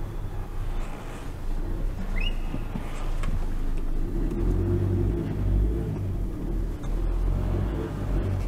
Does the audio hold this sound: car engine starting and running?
yes